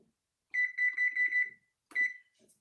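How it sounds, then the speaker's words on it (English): A kitchen timer being set while canning blueberry jam gives a rapid chain of bright electronic beeps, then a short pause and a single closing beep, close and clear with no talk. "I'm going to put it on another timer"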